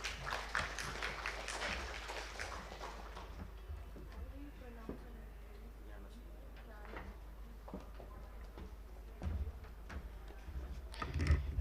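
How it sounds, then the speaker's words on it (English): Audience applause at an India Water Week 2022 panel discussion, faint scattered clapping in a hall at the start that thins out, then swells again briefly near the end, with voices in the room. "Can we have a huge round of applause for Mrs. Sundar?"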